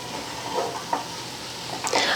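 Cooked rice being stirred into a tempering in a pan for mint rice gives a soft sizzle under scraping, with a few quick clinks of the spoon against the pan.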